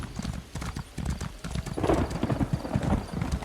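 Horse hooves clip-clop in rapid, regular beats as a mount trots in the video game Elder Scrolls Online High Isle, steady and close throughout with a faint voice beneath.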